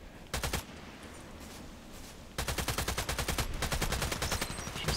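Rapid automatic gunfire from a first-person shooter video game plays in two bursts: a brief volley, a pause, then a longer, denser stream of shots, moderately loud and without talk.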